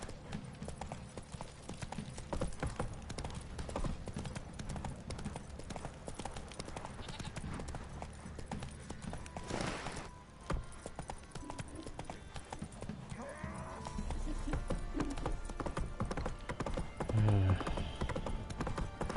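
A horse gallops in The Witcher 3 video game, rapid rhythmic hoofbeats drumming steadily for the whole stretch amid game ambience and a brief whinny, with a voice speaking over it.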